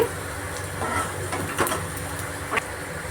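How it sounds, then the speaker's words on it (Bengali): Snake gourd (chichinga) frying in a pan gives a steady, close sizzling hiss with scattered crackles and small pops, with no voices. "ফ্রাই করে নিচ্ছি"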